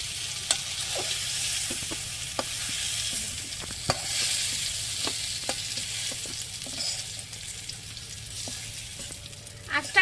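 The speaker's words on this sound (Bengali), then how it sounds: "এখন ওই লাউগুলি হয়ে গেছে নামিয়ে নি" Bottle gourd pieces frying in a pan, a continuous close sizzle broken by the scrape and clack of a utensil stirring at irregular moments.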